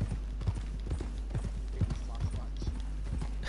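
Horse hooves clip-clop steadily through the Red Dead Online game world, a repeated rhythmic trot at mid distance under light chatter and laughter from players.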